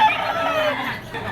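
A rooster crows loudly and close at a chicken market, its long harsh call filling the short moment with no talk over it.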